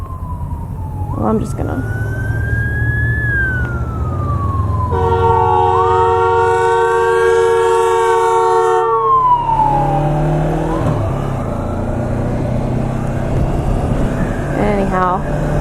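An emergency vehicle siren wails loudly and close as it passes along a road, its pitch sweeping up and down over steady traffic rumble, with someone speaking briefly underneath.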